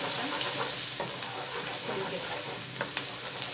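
Garlic sizzles steadily in hot mustard oil for an olive pickle, a close, continuous frying hiss with a few faint stirring scrapes and no talking.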